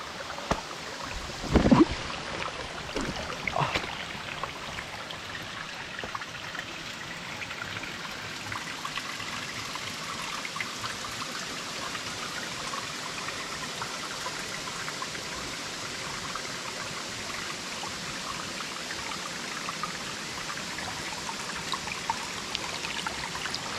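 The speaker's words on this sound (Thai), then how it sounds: "แล้วก็มีน้ำเล็กๆไหลมา" Small stream of water flowing over mossy rocks on a forest trail, a steady, soft trickling and babbling that continues evenly throughout, with a brief knock near the start.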